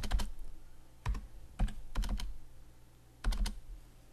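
Numbers being entered on a computer keyboard, short clustered bursts of key clicks with pauses between, close and fairly quiet.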